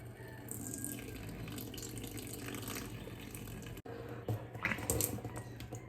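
Tap water runs steadily into a bathroom sink during a saline nasal rinse, a continuous splashing flow with a brief break and a few louder spatters near the end; no talking.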